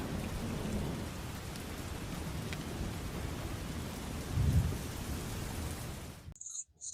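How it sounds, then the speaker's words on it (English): Heavy rain falling outside an apartment, a steady dense hiss with low rumbling throughout, cutting off abruptly near the end. "Look at this rain."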